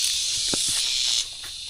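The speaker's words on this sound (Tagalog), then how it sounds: "Kuliglig yan. Malalaki." Large crickets chirp in a loud continuous high-pitched drone outdoors, cutting off abruptly near the end, with faint rustles and footsteps underneath.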